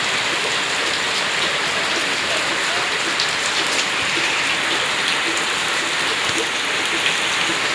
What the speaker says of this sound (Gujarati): એટલો વરસાદ ચાલુ છે ફૂલ